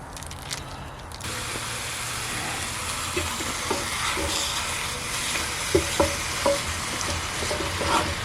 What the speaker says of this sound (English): We're going to go ahead and start browning off our meat.